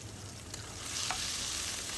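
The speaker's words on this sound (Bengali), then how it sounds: "এখন সরিষা তেল দিয়েছি আলুটাকে আমি ভালো করে ভেজে নেব" Potatoes fry in mustard oil in a pan, giving a soft, continuous sizzling hiss that swells slightly partway through, quiet and without any talk.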